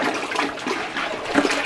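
Water pours steadily into a batch of bran feed being mixed with about three liters of water per bag, a continuous close splashing rush with no talk over it.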